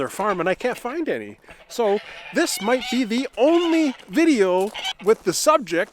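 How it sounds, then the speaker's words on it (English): Farm geese honk repeatedly nearby, loud nasal calls overlapping and mixing with someone talking steadily throughout. "Sorry about the geese noise"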